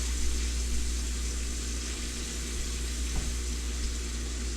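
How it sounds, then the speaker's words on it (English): Leeks sauté in a pan on a home stove, giving a steady, soft, even sizzle that carries on unbroken without any talk. "Leeks have a wonderful aroma when they start to cook"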